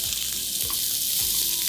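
Finely chopped medium onion frying in two spoons of oil with ginger-garlic paste in a pan, a continuous close hiss with a few faint low thumps of stirring, no voices.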